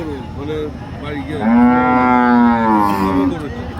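Cattle moo at a village cattle market, one long loud nearby moo rising and holding for about two seconds after a shorter lowing call, over faint crowd background.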